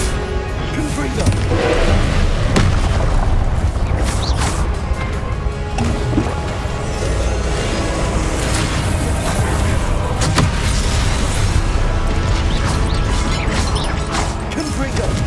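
Repeated fiery spell blasts from Hogwarts Legacy combat, loud crashing booms and thwacks piling up densely over a constant wash of game music and effects, with spoken spell incantations around them.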